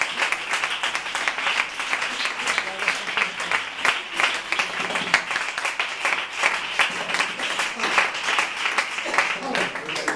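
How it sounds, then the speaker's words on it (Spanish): A church congregation claps steadily for about ten seconds, a continuous wash of hands at moderate distance. "¿Cuánto le da un aplauso a Dios?"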